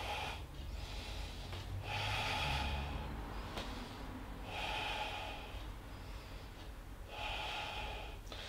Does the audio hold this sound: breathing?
yes